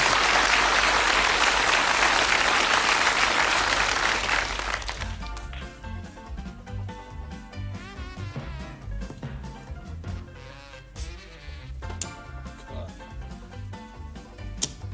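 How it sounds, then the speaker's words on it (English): A television studio audience at a darts game show applauds darts player Jocky Wilson, a loud dense roar of clapping that fades after about four seconds into quieter background noise and scattered sounds. "a warm round of applause for Jocky Wilson and his trophy player"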